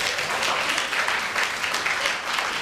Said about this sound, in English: can you clap really loudly right now?